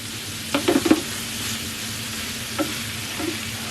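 Food stirs and cooks in a pan in a home kitchen, giving a soft steady sizzle broken by a few quick scraping, clinking stirs near the start and a couple more later, with no one talking.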